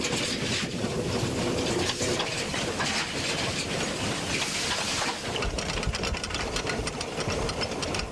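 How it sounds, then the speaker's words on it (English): A large Chinese-built locomotive, about 80 feet long, runs at speed, giving a steady, loud rumbling roar with dense rattling and clattering throughout, no voices. "It's one of the largest locomotives built by China, measuring a total length of about 80 feet."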